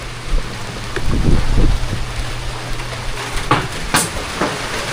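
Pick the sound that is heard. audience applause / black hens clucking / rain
rain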